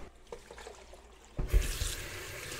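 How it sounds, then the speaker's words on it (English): Water gushes into a pot of cooking lentils for Turkish-style lentil soup, starting suddenly after a quiet moment and continuing as a close, splashing pour. "Now let's add the water."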